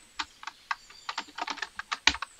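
Code typed on a computer keyboard while writing a CSS card hover effect, a quick irregular patter of close key clicks with a few louder strokes and no voices.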